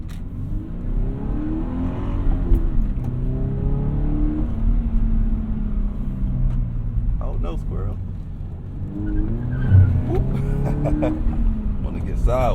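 A Toyota 86 revs hard while sliding sideways, its mid-pitched engine rising and falling through several throttle swells, close and loud with someone talking over it.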